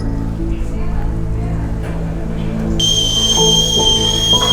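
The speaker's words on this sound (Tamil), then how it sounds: "ஓகே, விசில் வருது பார்த்தீங்களா?" A steamer whistles while keto egg idli cooks in a kitchen, a loud, steady high-pitched tone that starts abruptly partway through over a low rumbling boil and hiss.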